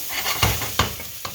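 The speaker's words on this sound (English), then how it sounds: "I'm going to just give this a stir because I definitely don't want this to burn." Corned beets stirred in a hot pan, a spoon scraping the bottom three times in an even rhythm over a continuous soft sizzle.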